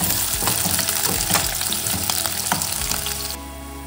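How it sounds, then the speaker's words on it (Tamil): Onions sauté in oil for soya vegetable biryani, crackling and sputtering up close with bursts of stirring, before the sizzle drops quieter near the end. "வெங்காயம் கொஞ்சம் வதங்கட்டும்."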